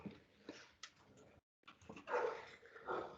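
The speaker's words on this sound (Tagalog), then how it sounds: "Galit yung aso sa pusa eh." An angry dog growls and barks at a cat in short, faint, close bursts, with a brief gap of silence before more agitated sounds.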